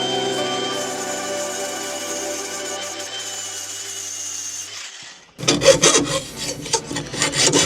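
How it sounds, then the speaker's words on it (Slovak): A grinder sharpens a lawn mower blade: a steady droning whine runs for several seconds, cuts out, then gives way to rough, loud, rhythmic rasping scrapes of metal on the blade. "tu máme ďalšiu výhodu brúsenia s brúskou"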